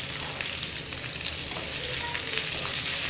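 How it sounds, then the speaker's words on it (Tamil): Onion, ginger and garlic sautéing in a little oil for a ridge gourd chutney, a close, continuous bright sizzle with faint stirring scrapes, no talking over it. "சிறிதளவு எண்ணெய் ஊற்றிக்கிட்டு வெங்காயத்தை எடுத்து போட்டுட்டு நல்லா வணக்கணும்."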